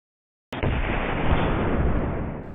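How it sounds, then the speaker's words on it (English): Tannerite taped to a cinder block detonates when struck by an airgun slug, a sudden loud blast that rolls into a sustained, dense roar filling the rest of the moment. "We got a good explosion"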